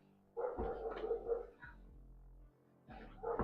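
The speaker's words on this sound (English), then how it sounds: "I'm a dog lover too, by the way, but they've been going off non-stop for half a fucking hour" Several dogs bark in bursts nearby, repeatedly and insistently, with a pause in the middle before the barking starts up again.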